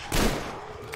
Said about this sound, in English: And someone shoot gunshots, huh?